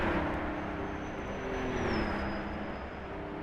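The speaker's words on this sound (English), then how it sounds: "rumble of that Aston Martin DB3S" A steady Aston Martin DB3S engine drone in a racing game hums continuously, with a whining tone that dips in pitch midway, like a car cruising and shifting gear.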